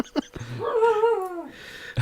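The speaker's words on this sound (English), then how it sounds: "Let's get this dog scream" A Shiba Inu dog lets out a drawn-out, wavering scream-like whine that rises and holds for about a second, close to the microphone, framed by short yips and rustling.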